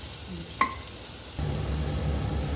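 Masala fries in a pan for a paneer burji, giving a continuous close sizzle with a brief stirring clink and a denser crackle in the latter half.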